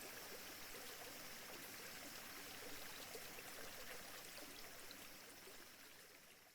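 Steady river stream flowing beside a hot spring inn at Ome Ishigami Onsen in Okutama, a continuous broadband rush of water heard up close and evenly loud throughout, with no voices.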